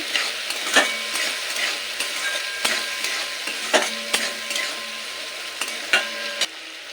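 Potatoes and ground spices such as turmeric and salt being sautéed in a pan for a vegetarian potato-pea ghugni, with a steady sizzle broken by sharp spatula scrapes and taps at irregular intervals, close and clear, with no talk.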